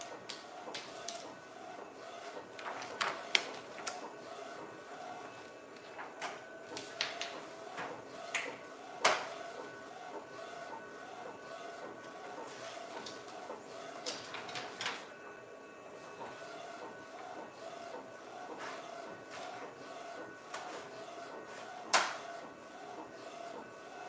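A shirt printer works steadily through graduation t-shirts, giving a continuous mechanical whir with regular carriage clicks and sharper ticks, moderately close and without speech.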